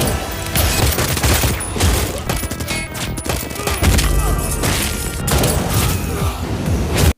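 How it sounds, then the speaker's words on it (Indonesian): Loud, continuous bursts of rapid gunfire fill a film firefight, with rattling volleys and booming impacts overlapping with no pause. "Tepat saat baku tembak berlangsung"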